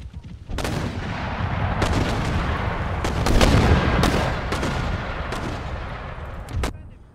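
Mortar and cannon fire on an Empire Total War battlefield: a continuous rumbling barrage with repeated booming shots layered over one another, loud and sustained, swelling near the middle, no talk.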